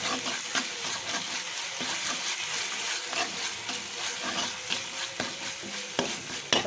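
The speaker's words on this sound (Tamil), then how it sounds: "இதை நல்லா வதக்கி விடலாம்." Ginger garlic paste sizzling and being stirred in hot oil for paneer bhurji, a continuous close frying hiss broken by repeated spatula scrapes and taps against the pan.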